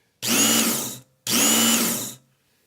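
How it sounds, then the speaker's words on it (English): A leather honing belt strop machine runs at low speed in two short bursts of about a second each, a close whirring motor hum that spins up and winds down with a pause between. "Now we're going to start our machine on a low speed just to check the tracking."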